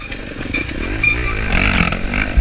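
An off-road dirt bike ridden by a pro racer during a GNCC cross-country race at Tomahawk passes nearby, with a steady, loud buzzing engine drone and shifting pitch as it closes in.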